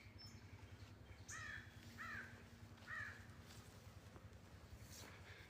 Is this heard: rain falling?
no